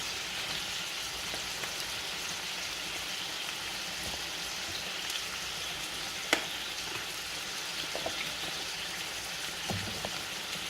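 Mushrooms cook in a pan for chicken marsala, making a steady, even sizzle throughout with a few faint clicks and taps from the kitchen.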